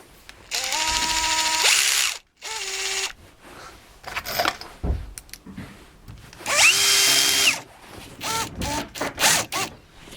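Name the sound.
Metabo PowerMaxx BS 12 BL Q 12V drill/driver running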